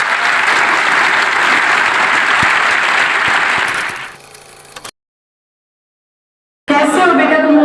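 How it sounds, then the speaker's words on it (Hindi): Students at a scholarship seminar clap loudly for their parents. The dense, sustained applause lasts about four seconds, then dies down and cuts to silence, and a voice speaks at the end. "जोरदार अपने माँ बाप के लिए ताली बजाओ"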